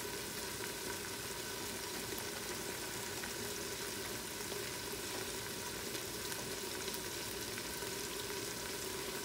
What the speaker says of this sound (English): that salt will help sweat them onions a little bit